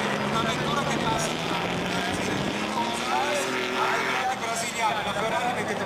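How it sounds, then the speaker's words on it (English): A Ferrari Formula One car driven by Felipe Massa roars past in a sustained loud engine howl with rising and falling pitch, heard under commentary. "Look at that car go."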